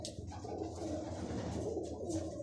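Low, rolling pigeon coos repeat steadily close by, with no voices over the continuous soft calling.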